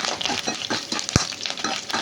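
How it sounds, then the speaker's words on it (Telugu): Curry leaf sprigs frying in hot tempering oil with dried red chillies, giving a steady crackling sizzle broken by a sharp pop or spatter near the middle. "ఇలా ఎర్రగా తాలింపు వేగాక కరివేపాకు ఒక 2 రెమ్మలు వేసుకోవాలి"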